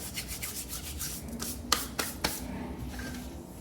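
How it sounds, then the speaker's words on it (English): Dry rubbing and grinding of cumin seeds crushed between palms, a soft gritty scraping with a few sharper crunches in the middle. "I'm gonna take those cumin seeds and I wanna kinda crush them underneath my palms"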